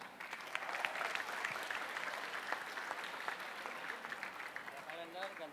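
Audience at a university orientation anti-corruption lecture breaks into brisk clapping, fairly close and lively, with voices chattering underneath and a brief spoken phrase near the end.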